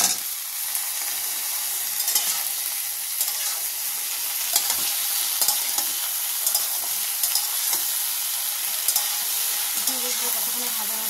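Ridge gourd and potatoes fry in a pan with a steady, close hiss and sizzle, punctuated by soft scraping stirs throughout.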